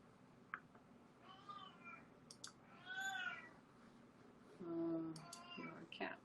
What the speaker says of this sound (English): Our cat's meowing.